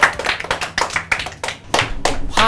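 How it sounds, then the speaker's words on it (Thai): Primary-school students in a Grade 6 social studies classroom clap together in a few loud, uneven bursts of close group applause that rise and fall over a couple of seconds. "ปรบมือ"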